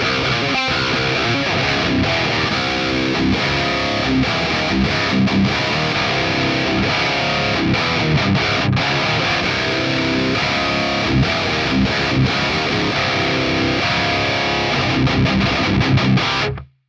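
High-gain distorted electric guitar tones from a Valeton GP-5 modeler and a Fractal unit, played back to back as one dense, loud, continuous stretch of riffing with no talking.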